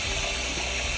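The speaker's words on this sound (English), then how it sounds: "run some water over the toothbrush" Water runs from a sink tap over a toothbrush during denture cleaning, a steady, close, loud rush with no pauses.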